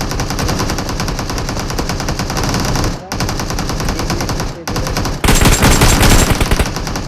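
Automatic and rapid gunfire in PUBG, loud and continuous bursts of machine-gun fire with brief gaps, ending in an even denser barrage.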